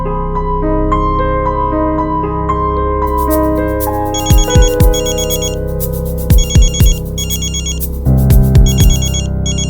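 A telephone ringtone plays after a call is placed, a loud electronic melody of repeated tones with short buzzing bursts, heard alone with no voices.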